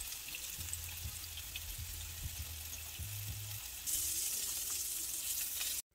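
Salmon bites frying in a pan give a steady, close sizzle that hisses on throughout, briefly brightening near the end before stopping abruptly, with faint low clinks underneath.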